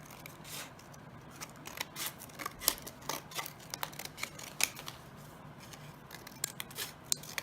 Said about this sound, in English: just cut out little pieces of paper